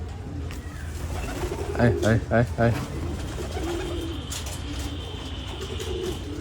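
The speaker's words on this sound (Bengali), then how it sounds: "আর এই তো মাদি আমার সেই কবুতরটা" Pigeons at a pigeon farm give a short run of several soft coos near the middle, set against steady background noise, with a man calling out repeatedly.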